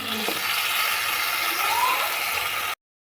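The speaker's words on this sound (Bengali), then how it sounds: "তো আদাটা আমরা এখন 2 মিনিট একটু ভালো করে ভেজে নিচ্ছি।" Ginger sizzles steadily in a hot pan for a vegetarian potato curry, with a constant close frying hiss and a brief scrape near the start. The sizzle stops abruptly just before the end.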